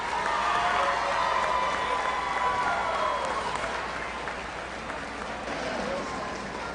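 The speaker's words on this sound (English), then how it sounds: "Let's give them all a round of applause." An audience at a county youth fair livestock show applauds the class winners, a fairly distant, diffuse patter of clapping and crowd murmur that holds steadily and fades slightly.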